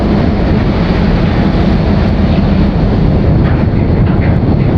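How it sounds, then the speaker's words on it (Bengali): Loud, unbroken roar of wind and churning water on a stormy open sea off Bangladesh as a big wave approaches, with heavy wind rumble on the microphone throughout. "বড় ঢেউটা"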